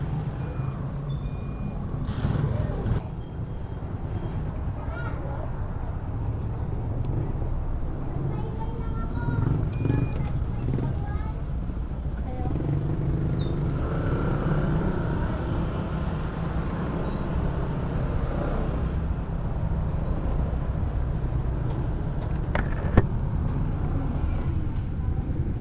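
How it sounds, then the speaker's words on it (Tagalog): Road traffic noise around a Fortress 160 motorcycle on a daily ride, with low engine and vehicle rumble, occasional brake hiss and beeps, and a person talking intermittently over it. "Yan, traffic na naman."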